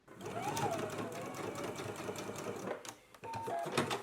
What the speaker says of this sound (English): Go ahead and baste these 2 on now.